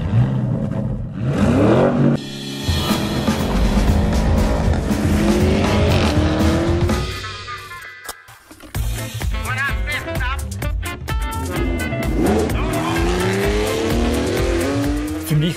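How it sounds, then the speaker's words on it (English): A 2021 Porsche Cayenne GTS sports SUV engine roars loud and high-pitched through its centrally laid-out exhaust, shifting through gears, rising and falling in pitch with a brief pause midway, throaty exhaust throughout. "this central layout of the exhaust system allows us to generate a more emotional sound with an even higher frequency"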